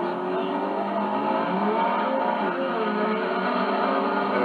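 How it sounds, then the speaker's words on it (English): A fast drag racing car, a 1957 Chevy with a 454 tunnel ram, roars loud and steady as it accelerates, its engine tone sweeping and shifting without pause. "Fast car."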